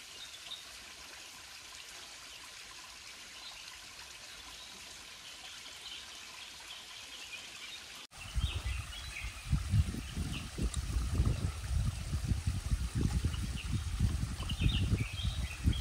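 A forest stream flows near a waterfall in South India, a soft steady trickle with faint birdsong at first, then a louder, fuller gurgling rush with low rumbling surges for the second half.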